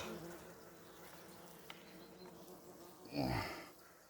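Bees buzz around an open Levytsky beehive, a faint, steady hum with one bee sweeping loudly past close by near the end.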